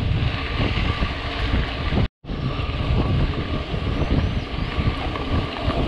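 Steady, loud headwind roars and buffets a microphone while cycling alongside an electric bicycle, a continuous broadband rush broken by one brief dropout.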